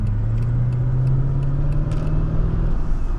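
Inside a 2003 Mercedes-Benz CL500 on the move, its V8 engine gives a loud, steady low rumble, with road noise underneath and a slight rise in pitch throughout.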